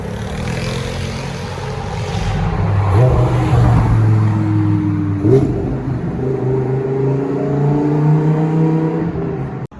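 A turquoise Ferrari's engine revs up in a series of rising pulls, loud and close, with no voices present.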